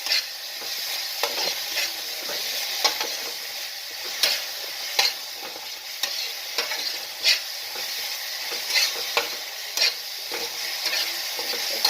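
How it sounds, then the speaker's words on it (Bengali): Bhetki fish masala fries in a pan as turmeric is sprinkled in, a steady close sizzle with repeated scraping stir strokes of a spatula throughout, no talk. "হলুদ ছড়িয়ে দিচ্ছি আর একটু কষিয়ে নেব"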